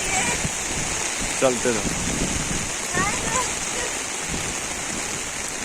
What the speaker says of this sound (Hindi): कितना जोर की बारिश है